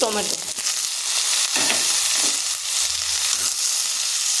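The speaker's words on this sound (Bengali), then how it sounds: "টমেটোকে হালকা ভেজে নিচ্ছি" Tomatoes fry lightly in a pan after onions, giving a loud, steady sizzle with occasional stirring scrapes, close up and without talk.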